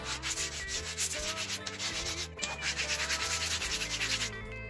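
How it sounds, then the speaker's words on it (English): Sandpaper rubs on an oily rosewood archtop guitar bridge blank to take off bandsaw marks, giving steady rhythmic back-and-forth scratching strokes, close and continuous with no talk. "Just want to sand down the bandsaw marks."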